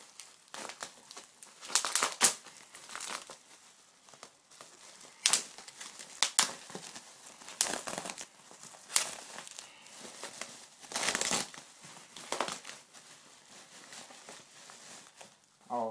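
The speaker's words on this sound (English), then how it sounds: "Don't want to cut too much in case I go through the wrap" Plastic wrap crinkling and tearing as it is carefully cut open around a custom Shockwave figure, in several short bursts of crackle separated by quiet pauses, fairly close.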